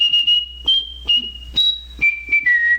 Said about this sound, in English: I can whistle very high and on pitch.